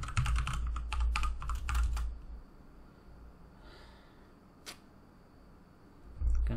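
Quick bursts of typing on a computer keyboard, close and crisp, with rapid clustered keystrokes in the first two seconds, then near silence apart from one isolated tap and a final burst of keys.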